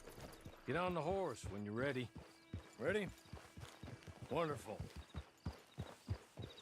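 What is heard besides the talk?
horse hooves in video game Red Dead Redemption 2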